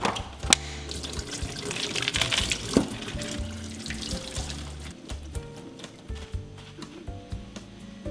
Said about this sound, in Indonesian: ini ada curly lettuce, ini kita cuci dulu